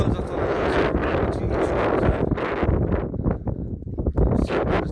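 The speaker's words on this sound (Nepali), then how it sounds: "हावा एकदम मस्त" Strong wind roars steadily across the microphone in loud, rumbling gusts, with no voices heard.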